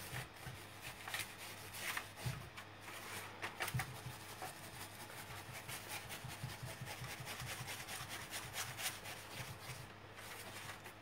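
Gilding flakes rubbed over a surface, a faint continuous brushing and scratching texture with soft irregular strokes, close and quiet with no talking.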